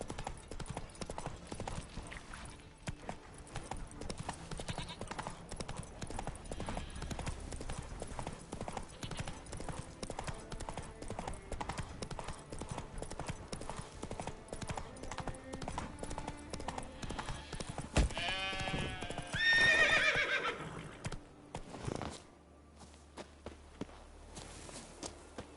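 Horse hooves clip-clop steadily in The Witcher 3 video game, a brisk repeated walking rhythm heard up close, with brief game voices and a louder burst near the end before it drops away.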